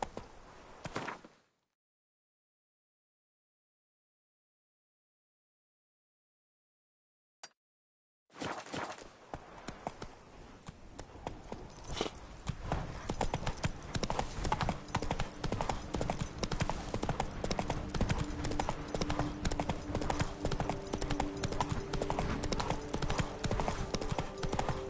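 Horse galloping in The Witcher 3: Blood and Wine, a brief clatter, then silence, then rapid hoofbeats that build into a steady loud gallop over continuous outdoor ambience.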